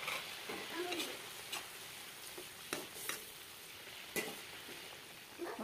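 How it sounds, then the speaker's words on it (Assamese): Fish simmers in a mustard paste gravy in a covered pan, giving a soft continuous sizzle and bubbling with occasional louder pops and clinks, fairly faint. "সেইখিনি উতলি থাকোঁতে আমি মাছখিনি দি দিম"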